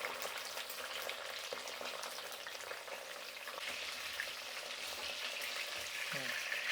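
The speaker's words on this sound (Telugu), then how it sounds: "వంకాయలు బాగా మంచిగా వేగించుకోవాలండి ఇప్పుడే." Eggplants frying in oil in a pan for stuffed masala gutti vankaya, a steady dense sizzle crackling throughout with occasional faint clinks, no talking.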